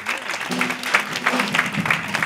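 A church congregation claps and cheers in praise, with steady crowd applause throughout and a voice calling out over it.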